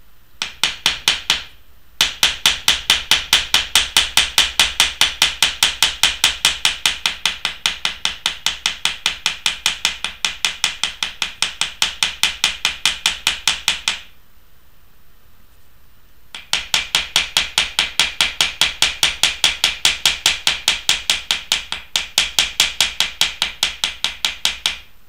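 Silver wire for a cuff frame is hammered with rapid, evenly spaced metallic strikes that are loud and close, continuing for many seconds with two short pauses.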